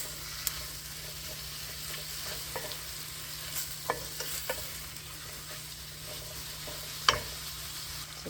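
Masala gravy for an eggplant curry sizzles softly in a cooking pan, with intermittent stirring scrapes and occasional sharper clicks of the spoon over a low, steady frying hiss.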